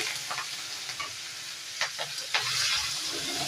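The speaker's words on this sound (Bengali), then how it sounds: "দিয়ে এবার গাঠি কচুগুলো দিয়ে দিলাম" Pieces of gathi kochu (taro) and cut green chillies sizzle in hot oil, a steady close-up fry with a few sharp spatters and stirring clinks, no voices.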